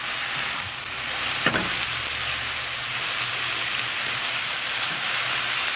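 About two cups of spinach cook in a pan for a spinach and mushroom omelette, a steady close sizzle and hiss with one clunk early on as it is tossed.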